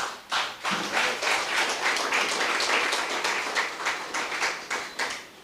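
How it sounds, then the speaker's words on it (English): Audience at a Democratic Labour Party branch meeting in St. Philip applauds, a steady wash of many hands clapping for several seconds, fairly close and continuous with no talk over it. "Give another round of applause to Sister Felicia."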